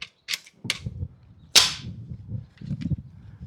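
A T50 Extreme airgun fires at a target. One sharp, loud crack stands out among several smaller clicks and handling knocks, and no one speaks.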